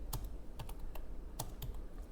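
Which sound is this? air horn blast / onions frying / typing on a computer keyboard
typing on a computer keyboard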